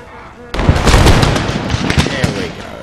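A ragged volley of musket fire breaks out suddenly in the video game Empire: Total War, a dense crackle of overlapping shots that tails off into scattered pops.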